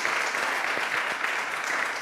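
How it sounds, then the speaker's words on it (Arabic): Steady audience applause, dense clapping from a crowd filling the room throughout, fairly loud and without pauses. "تصفيقة كبيرة"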